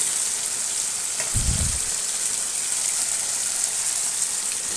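Tomatoes cook down in a pan for a drumstick curry, giving a soft, even sizzle throughout with one short low thump partway through.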